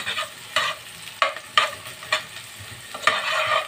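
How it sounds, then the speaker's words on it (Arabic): Onion sautéing in ghee in a pan, with repeated stirring scrapes cutting through a steady close sizzle, several sharp strokes spread irregularly across the moment. "البصلايه بنديها تشويحه كده دوبك"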